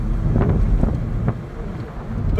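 Wind buffets the microphone in an open-top Toyota MR2 Mk3 roadster with a small acrylic visor. A loud, steady roar of rushing air with gusty low rumbles throughout, and no voices.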